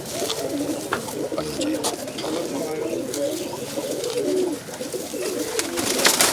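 Pigeons coo in a loud, steady burble close by while someone speaks briefly over them, with a few sharp clicks and rustles scattered through.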